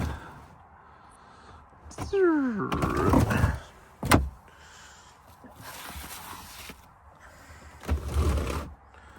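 Wooden tambour doors on a camper van cabinet roll up and down in several scraping, rattling slides, separated by pauses, with someone talking between the movements.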